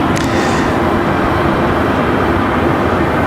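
A Mesa Airlines United Express regional jet at Raleigh-Durham airport gives off a loud, steady broadband roar that fills the whole stretch with no clear change.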